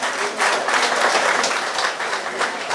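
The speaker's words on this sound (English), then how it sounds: "Let's bring on with a round of applause, please." Applause fills a tribute gathering in La Brea: steady, dense clapping from a sizable audience, loud and close, running unbroken throughout with faint voices mixed in.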